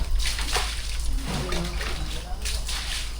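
Water is sloshed over fresh hollow-block work during construction of a new room at a beach transient house, heard as a few rough, splashy bursts of pouring and spattering under a steady background hum.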